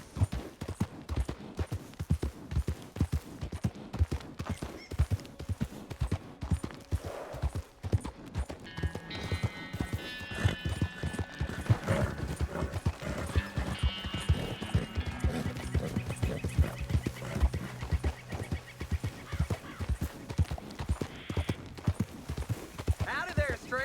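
Steady clip-clop of horse hooves in the video game Red Dead Redemption 2, a rhythmic trot throughout with faint neighing, while characters talk over it.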